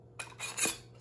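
A cheese steak sandwich set down on a plate, with two or three quick light clinks of plate and utensil in a quiet kitchen, no voices.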